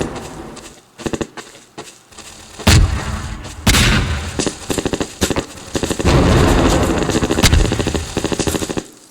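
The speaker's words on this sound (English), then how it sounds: "All the landmine effects you saw there were triggers, explosions." Scattered booming landmine and cannon explosions and sharp blasts in a video game beach scene burst out irregularly, loud and close, with rumbling tails in between.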